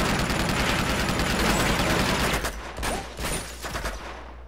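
Rapid AK rifle bursts in the video game Uncharted 2, dense loud automatic fire for about two seconds, then a few separate shots and echoing impacts, no talking.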